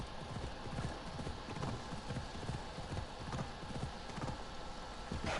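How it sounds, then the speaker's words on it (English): Horse hooves in Assassin's Creed Odyssey, a steady clip-clop of a galloping game horse repeating throughout, fairly close and alone over a constant ambient wash. "I love this horse though, the fact that it doesn't fall over."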